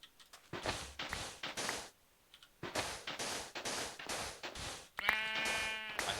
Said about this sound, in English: Let's rescue this poor sheep.